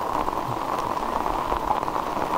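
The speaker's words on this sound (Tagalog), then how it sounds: "Okay lang yan. Hinto lang tong ulan eh." Rain falls steadily on a campsite in the wild, a loud, continuous close-up patter and hiss of drops hitting surfaces, with no voices.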